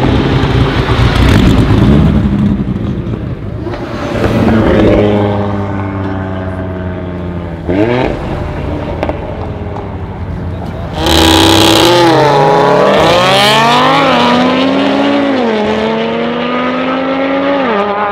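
An 880-horsepower Audi TT RS accelerating hard at a race, its engine loud and close, revving up through rising gear pulls with sharp shifts between them, and a second strong surge of acceleration later on.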